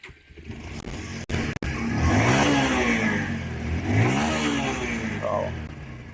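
A used single-owner Bajaj Pulsar 125cc motorcycle with about 14,000 km on it starts up after a brief pause, then its engine revs steadily up and down at close range, loud and alone.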